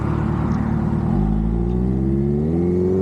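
A Kawasaki Ninja H2 motorcycle just back from major service, ridden on the road, its engine droning steadily and then rising in pitch as it accelerates, loud and close with wind rumble.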